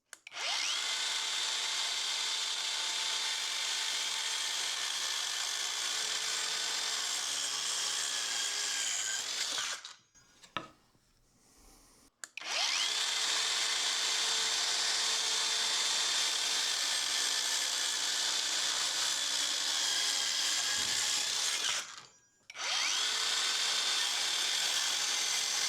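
A Hercules 4.5 inch saw cuts plywood with a thin wood veneer, its loud, steady high whine running for about ten seconds, stopping briefly, then running again for another long cut before a short gap.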